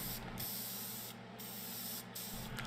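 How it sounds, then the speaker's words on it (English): Lacquer finish is sprayed from a can onto a wood piece in a continuous close hiss, broken by three brief dips in the spray. "just start spraying before you actually reach the piece and continue the spray after the piece"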